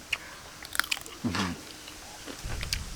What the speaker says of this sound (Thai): ค่อยๆเคี้ยว